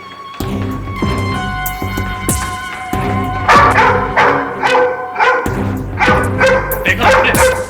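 Dog barking and yipping in a TV drama scene, several sharp close barks in uneven bursts mixed with people talking.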